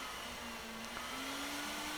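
A household hair dryer blows air into a damp car headlight, a steady close whooshing roar with a faint motor hum that rises slightly in pitch midway, no speech.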